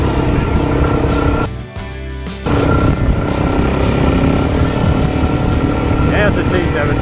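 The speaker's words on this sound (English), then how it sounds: "we spot a group of bikes coming the other way, one after another" A group of adventure motorcycles, an Aprilia Tuareg among them, passes one after another from the opposite direction. Their loud engines drone and roar close by, with a short lull partway through before the noise surges again.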